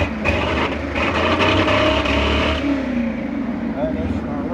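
A 1978 Chevy Blazer 4x4 with a 305 small-block V8 and a three-chamber dual Flowmaster-style muffler idles roughly and unevenly, loud and close, with someone talking over the steady engine rumble throughout.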